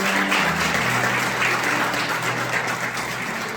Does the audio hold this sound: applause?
yes